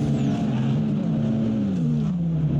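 A Mazda Speed 3 TCR and a Hyundai race car run on the Indianapolis road course, a steady engine drone holding at one pitch and then dipping slightly, with no talk over it.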